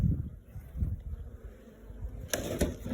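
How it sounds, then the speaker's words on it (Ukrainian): Honeybees from a swarm housed in a hive, placed outdoors near lavender, give a faint, low buzzing drone against outdoor background noise, with a couple of brief brighter rustles near the end. "Вулик з роєм."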